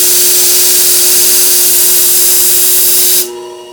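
A khukri knife ground on a WorkSharp powered belt sharpener gives a loud, steady, high grinding hiss with a faint motor whine, then the grinding cuts off and leaves only the quieter motor hum.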